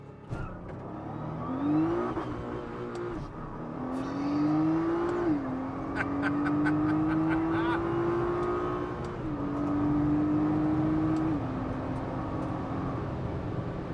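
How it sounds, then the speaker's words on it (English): A car launches from a standstill with left foot on the brake and the throttle planted, the engine note climbing in long rising sweeps through several gear changes, loud and steady throughout with no talk. "So you put your left foot on the brake, plant the throttle"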